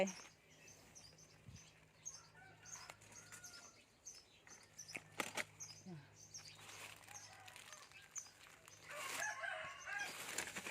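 Chickens, a hen and a rooster, in a yard: faint, distant clucking and calls with a crow near the end, under quiet outdoor background and occasional voices.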